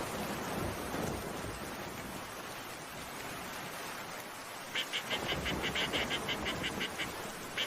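Steady rain pours down in a cartoon village scene, a continuous hiss of falling water that stays even throughout, with a run of short rhythmic tapping accents over the final few seconds.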